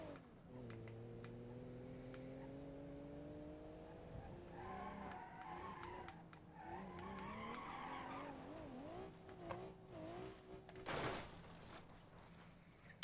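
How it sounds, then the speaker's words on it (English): A Citroën BX car in BeamNG.drive revving and skidding, with an engine note rising in pitch, tire squeal, then a sharp crunching crash near the end, with faint background noise throughout. "That was kind of a shit crash."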